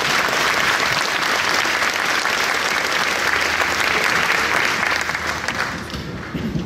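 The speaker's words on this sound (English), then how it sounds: "please give yourselves a round of applause" Families at an army basic training graduation ceremony break into loud, sustained applause from a large crowd outdoors, thick steady clapping that begins to thin out toward the end.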